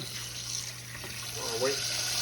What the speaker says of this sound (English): just hot water right out your sink